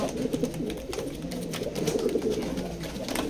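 Racing Maxi pigeons, a pair kept for breeding, coo in low, rolling murmurs that run steadily through the whole stretch, fairly close and set over a constant hum of background noise.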